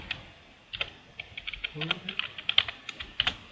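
A computer keyboard is typed on in quick, irregular bursts of crisp clicks, close and moderately quiet, with a faint voice speaking underneath.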